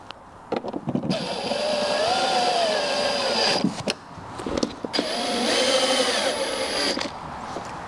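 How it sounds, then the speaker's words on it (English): Power driver with a clutch setting running short trim screws into a 2023 car, heard as two sustained whining motor bursts of about three and two seconds, each with a shifting tone, separated by brief clicks and handling noise. "If you're gonna use a power driver, you wanna have a clutch setup."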